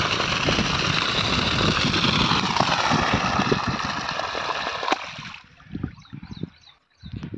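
A solar-powered water pump pumping irrigation water runs with a loud, steady engine-like drone and rushing water, then is switched off partway through and leaves a few uneven bursts of noise.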